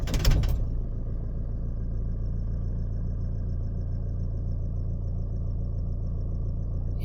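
A car engine with an ESP traction control fault cranks over in a short burst, then settles into a steady, low idle hum that holds until the end.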